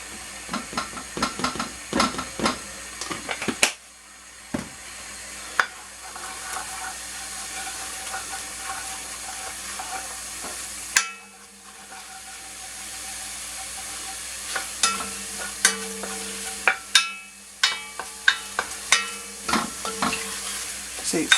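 Beef browns in a hot pan with plain flour stirred through, giving a steady sizzle and frying hiss punctuated by repeated sharp scrapes and knocks of a utensil against the pan.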